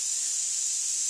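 An airbrush spraying yellow paint gives a continuous, even high hiss of air, close and steady for the whole moment with no voice.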